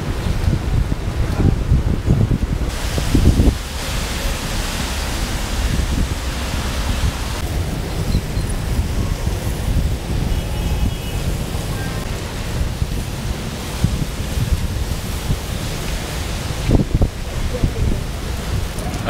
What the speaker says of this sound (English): We're already getting lots of rain here, and some strong gusts